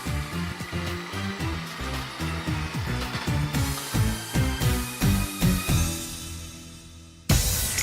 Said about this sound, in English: Another original machine they have is to grate Japanese radish.